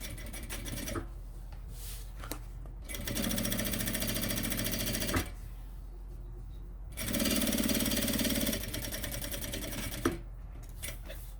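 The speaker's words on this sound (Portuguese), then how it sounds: "vou passar o pesponto." A sewing machine topstitches a sublimated pouch in two loud, rapid bursts of needle hammering, each a couple of seconds long, separated by pauses with faint handling sounds.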